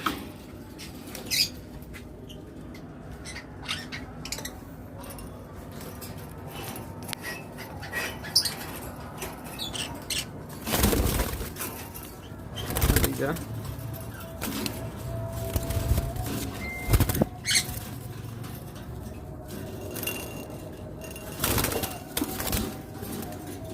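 Caged pet birds in an aviary: scattered chirps and coos over a continuous rustle, with several loud bursts of wing flutter and scratching against the cage.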